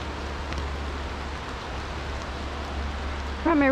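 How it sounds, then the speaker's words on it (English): Steady rain patters in a continuous hiss on a hiking trail along the Wenatchee River, with a brief voice-like sound at the very end. "since it's raining, I'm getting wet from the knees down."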